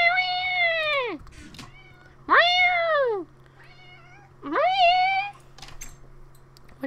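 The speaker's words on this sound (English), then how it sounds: "Stop meowing!" A cat in Minecraft meows three times in long, drawn-out, wavering calls separated by short pauses, loud and close over a faint steady background hum.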